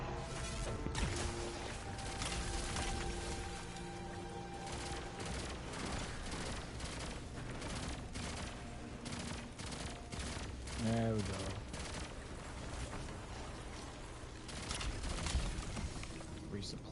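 Xenophage, an exotic machine gun in Destiny 2, fires loud, heavy bursts of gunfire that run almost continuously, mixed with other game effects and with a person talking over the shots.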